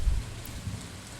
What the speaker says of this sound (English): In our case, it's raining